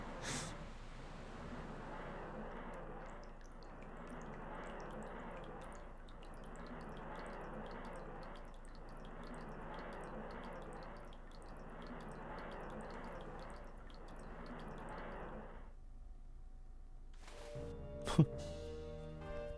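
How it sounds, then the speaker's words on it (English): In the video game Ocarina of Time, looping game music plays until a single giant water drop falls near the end with a short, sharp splash. "that was a giant water drop, jeez"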